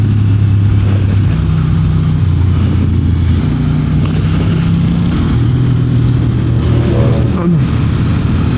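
A motorcycle ride near Paris with another rider on a 1290 behind, its engine droning steadily and climbing in pitch in low gear, loud and continuous with wind noise, voices talking over it.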